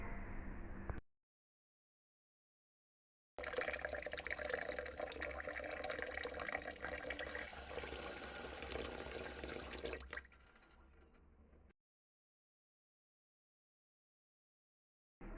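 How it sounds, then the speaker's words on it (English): Rinse water drains off bulgur wheat in a steady pouring rush lasting several seconds, thinning to a lighter trickle before silence, with brief sounds at the very start and end. "this is the last time I'm going to rinse my bulgur. So I'm gonna just remove all of the liquid"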